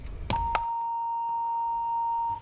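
A buzzer in a group conformity experiment sounds a sustained electronic tone lasting about two seconds. It starts right after two brief knocks and holds steady at a constant level until it cuts off.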